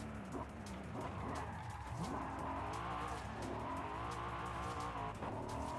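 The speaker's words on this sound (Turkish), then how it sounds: "Spor araba ya yere yakın böyle" A sports car in the racing game Forza Horizon 5 drives with a steady engine drone and a continuous tire squeal as it skids, loud and unbroken throughout.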